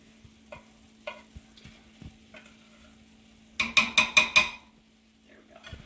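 A spoon stirs drained oil-packed tuna with orzo and zucchini in a single pot: a few scattered taps, then a quick burst of five rhythmic scraping strokes against the pot, close and clear with no voices.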